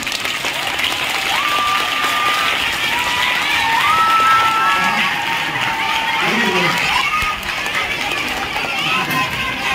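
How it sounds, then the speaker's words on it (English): Audience clapping for children at a road safety awareness workshop, loud crowd applause mixed with chatter and children's voices, with a whistle-like tone rising and falling through it. "Claps for children."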